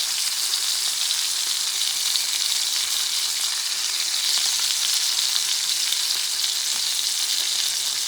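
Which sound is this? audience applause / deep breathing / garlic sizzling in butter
garlic sizzling in butter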